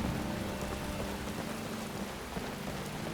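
Steady rain falls in the Skyrim video game, a constant dense hiss of drops on surfaces filling the scene at moderate level with no voices.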